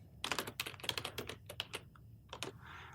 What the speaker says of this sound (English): We'll type these in and make it faster.